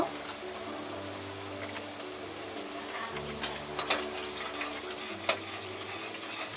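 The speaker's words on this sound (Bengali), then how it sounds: "এখন আমি এটা ভালো করে কষিয়ে নেব আমি পরিমাণ মতো একটু লবণ দিয়ে দিব" Tomato and spice mixture with turmeric and salt is stir-fried in a pan for a Bangladeshi tomato khatta. It gives a steady close sizzle with sharp spoon scrapes and taps against the pan, and no talking.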